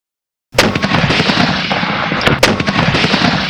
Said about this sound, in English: run our guns out firing a few rounds